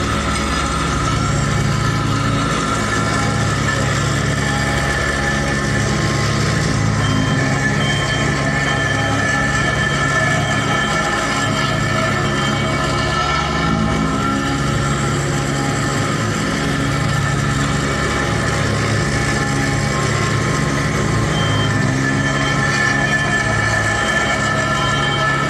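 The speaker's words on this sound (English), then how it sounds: "The small roller compactor is mostly used to flatten up the earth surfaces" A small roller compactor vibrates steadily on a street during road construction, giving a continuous, droning mechanical rumble that holds at an even level with no pauses and no voices.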